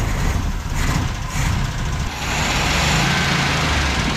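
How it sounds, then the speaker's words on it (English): A 1974 Chevrolet El Camino that sat for years in the desert cranks and fires up, its engine settling into a loud, steady running rumble after a brief uneven start. "Let's fire it up, see if we can get it to move a little bit and if the brakes work."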